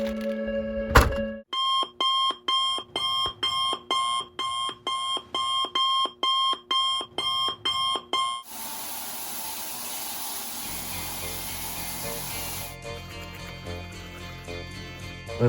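Alarm clock ringing at 3 a.m. on a tour trip: a loud electronic beeping in a rapid, steady series of pulses for several seconds, then cutting to running water from a tap.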